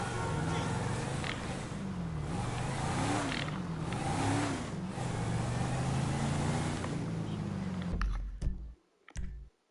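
Car driving in Grand Theft Auto V, with an engine rising and falling steadily for about eight seconds before cutting to a few sharp clicks and near silence.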